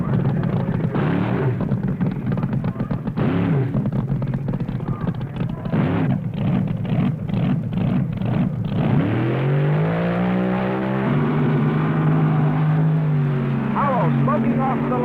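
Funny car drag racers roar off the starting line at the 1970 NHRA Nationals, loud engine thunder and rising revs over a continuous crowd and announcer backdrop.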